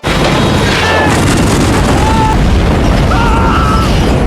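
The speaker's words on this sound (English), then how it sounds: "The violent explosion also impacted the entire research base" A violent explosion at a research base, with a helicopter careening into surveillance equipment: a loud, sustained roaring blast and rumble fills the entire stretch without letting up, and no voices are heard.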